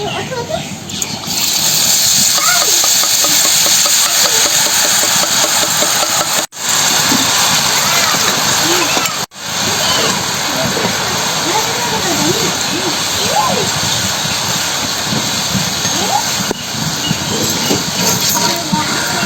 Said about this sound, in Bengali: ঠিক এই রকম লাল করে ভেজে তুলে নেব